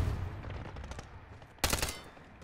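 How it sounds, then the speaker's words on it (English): Light machine gun firing in a video game, a short rattling burst of close, loud shots that cuts in sharply near the end of a brief noisy stretch. "That big ass LMG."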